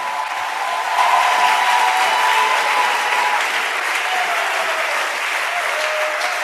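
A church congregation breaks into sustained, loud applause during a sermon, a dense, even clatter of many hands that holds steady throughout.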